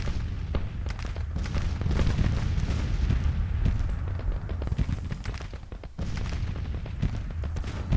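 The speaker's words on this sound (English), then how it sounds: "Put up the counter battery fire." Counter-battery artillery fire in the Civil War strategy game Grand Tactician: The Civil War, a dense, continuous rumble of booms and cannon reports rolling steadily throughout, with a brief dip near the end.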